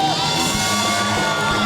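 A studio audience at a Kapil Sharma comedy show cheers, whoops and claps for Spider-Man's entrance, a dense, loud crowd roar that continues steadily throughout.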